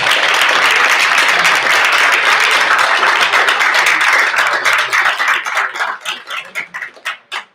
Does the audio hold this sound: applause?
yes